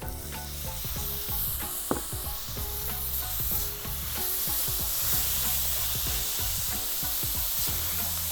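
Roasted red peppers sizzle in a pan with browned, caramelized onions as a loud steady frying hiss, with a utensil stirring and clicking against the pan throughout.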